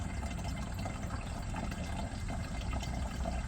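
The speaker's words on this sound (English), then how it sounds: "I'm going to fill it up about 1/4 of the way with the compost tea, and then I'm going to do the rest with water" Compost tea and water pour steadily into a container during a summer garden cleanup, a continuous close splashing, gurgling fill with no talking.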